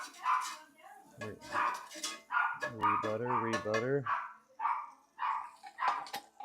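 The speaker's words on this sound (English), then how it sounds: "The dogs are going nuts over here." Several dogs barking and yipping in excited bursts nearby, with one longer whining howl in the middle, while someone talks over and between the barks outdoors.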